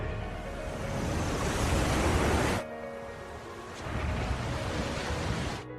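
Huge tsunami waves rush across the ocean in an animated film, a broad roaring surge of water noise that drops off abruptly partway through, then swells back into a steady wash before cutting out.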